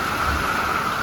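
Hurricane rain and wind roar in a dense, steady wash of noise, hissing downpour and gusting air filling the space continuously without pause.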